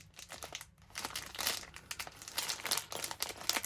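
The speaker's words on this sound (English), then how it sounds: "Crinkly plastic sounds." Crinkly plastic parts crackle and rustle while a $25 rechargeable solar LED light is taken apart, with close, irregular bursts of crinkling throughout.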